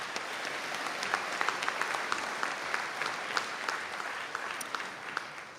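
Steady applause from the audience at a Donegal conferring ceremony, a dense, even patter of many hands clapping throughout, moderately distant and with no talking over it.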